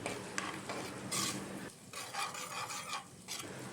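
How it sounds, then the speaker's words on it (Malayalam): Curry leaves and shallots sautéing in a pan for a Wayanad-style sardine chili curry, heard as close scraping stir strokes over a crackling sizzle with short bursts and a brief dip midway. "ഇനി ഇതിലേക്ക് നമുക്ക് ഒരു കുറച്ച് കറിവേപ്പിൻ്റെ ഇല അതുപോലെ തന്നെ കൊച്ചുള്ളി നമുക്ക് ആഡ് ചെയ്ത് നന്നായിട്ട് വഴറ്റി എടുക്കാം"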